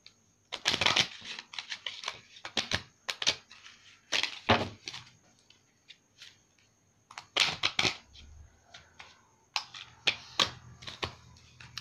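Tarot cards are shuffled close up in repeated bursts of riffling and crisp flicks, with short pauses between rounds and a faint steady hum underneath.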